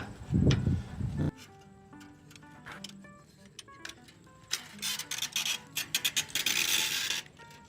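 On a farm, a diagonal brace on a gate is tightened, bringing a loud thump and then a run of small metallic ticks and clicks, ending in quick rapid ratcheting bursts.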